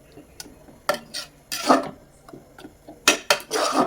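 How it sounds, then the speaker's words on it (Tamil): A fenugreek kali mixture made with raw rice is stirred in a pot on the stove, heard as close, irregular scraping strokes of a utensil against the pot with brief quiet gaps. "அடுப்பத்தை வச்சு ஒன்று போல் கலந்து விட்டுக்கலாங்க"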